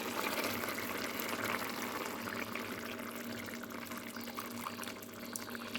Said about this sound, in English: So we're going to add our sauce to this now.